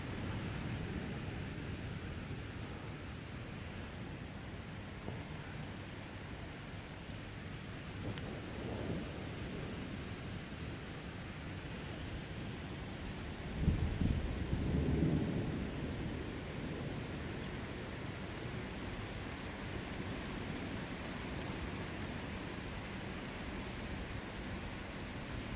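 Steady rain hisses throughout, with a low rumble of thunder rolling in near the middle before the downpour settles back.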